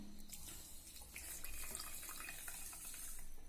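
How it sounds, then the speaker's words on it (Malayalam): Half a cup of water is poured into a pan to make homemade marshmallow syrup, giving a steady splashing trickle close by for a few seconds. "ഇനി ഇതിലേക്ക് 1/2 കപ്പ് വെള്ളം ഒഴിക്കണം"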